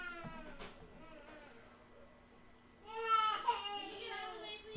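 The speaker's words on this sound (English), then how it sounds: "since we have a crying baby" A baby cries in rising, wavering wails, faint at first and then louder and closer toward the end.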